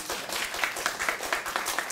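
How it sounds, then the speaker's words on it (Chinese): An audience at a lecture applauds, giving a brief, even burst of many hands clapping at a moderate distance. "要鼓掌就鼓掌啊"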